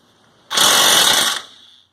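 A power drill with its bit stuck spins up in one loud, whirring burst of about a second in a garage, then cuts out abruptly.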